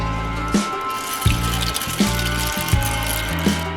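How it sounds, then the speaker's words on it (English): Heart-shaped pasta poured into a pot of boiling water, a steady bubbling wash with several soft splashing bursts roughly every three-quarters of a second, close and alone. "let's add the pasta."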